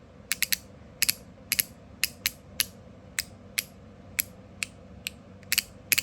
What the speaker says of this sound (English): When I do it with a really light touch, I can hear it ratchet one click